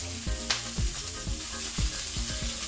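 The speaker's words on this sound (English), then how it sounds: "Now that we've got our onions and apples, we're going to throw these into the pan with it." Onions and apples sizzle steadily in a hot pan, with a constant frying hiss and repeated stirring scrapes and knocks throughout.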